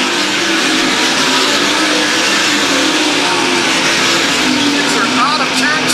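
Race cars roaring around the track on the final lap at Lakeside: loud, sustained engine drone as the field accelerates down the backstretch, continuous and close, with an announcer calling the race over it.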